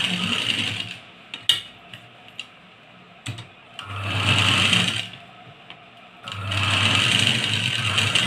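A sewing machine stitching a fish-cut sleeve of black cloth onto a readymade dress, running in two sustained bursts with a short run earlier and scattered clicks and handling noises between them, close and fairly loud.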